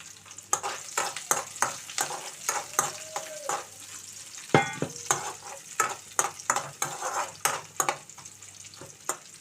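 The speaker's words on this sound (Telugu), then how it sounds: "కొంచెం వేగనిద్దామండి." Garlic, green chilies and onions sizzling in a pan while being stirred, with a continuous frying hiss broken by repeated sharp scrapes and clinks of the spoon against the pan.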